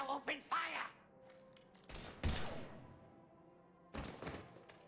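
Several heavy gunshots and thuds burst out in the video game Mass Effect 3, arriving in a few loud clusters with quieter gaps, preceded by brief voices.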